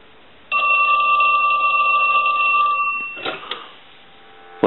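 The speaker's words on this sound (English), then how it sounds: "We want to go ahead and ring it." French-style rotary telephone under repair ringing with one long continuous bell ring, close and loud, followed by a few handling clicks.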